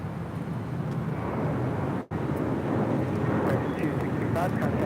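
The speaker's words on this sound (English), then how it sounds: "This is American Airlines 265 departing to Lihue. That is an A321neo." An American Airlines Airbus A321neo departs LAX, heard as a steady, loud, broad jet roar with wind noise, continuous throughout the short stretch apart from one brief dropout.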